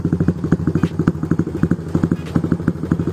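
Yamaha Aerox scooter fitted with a Kares Samlong exhaust running close by, giving a loud, steady, rapid thumping exhaust beat throughout with a slight clatter.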